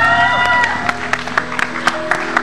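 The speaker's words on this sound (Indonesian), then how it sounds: "boleh minta tepuk tangannya buat Ola." A TV talk show studio audience claps and cheers briefly, with musical tones and sharp accents over the applause.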